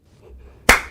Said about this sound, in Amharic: አጨብጭብ።